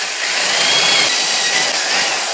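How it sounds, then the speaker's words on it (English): A power drill runs steadily and loudly, boring a hole for a cotter pin through a castle nut while a Honda Civic's front wheel bearings are being replaced. The whine is continuous and harsh with no talking. "The only thing you've got to be careful on this is you don't want to break a drill bit off in this sucker."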